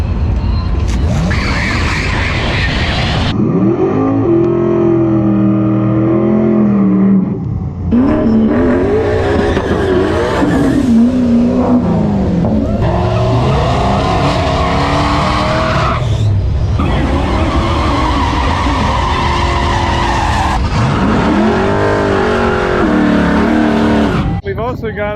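Porsche Taycan Turbo S and Tesla Plaid electric cars at a drag strip, with loud continuous motor whine, tire noise and crowd chatter running throughout, voices talking over the vehicle sounds.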